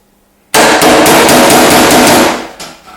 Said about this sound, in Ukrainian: На молотку у нас є так як велика насадка, так і тонкий носик.